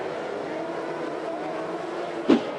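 TQ midget race cars drone steadily around a speedway during a 20-lap feature race, a continuous distant engine hum with one brief louder whoosh as a car passes near.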